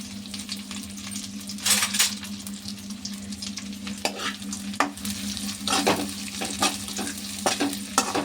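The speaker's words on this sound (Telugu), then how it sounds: "నేను నూనెలో ముందు ఇలా వేపాలి, మంచిగా కలర్ వచ్చేలాగా." Cleaned prawns frying in hot oil, a loud, steady sizzle near at hand, broken by repeated metallic scrapes and clinks of a spoon stirring in the pan, no talking.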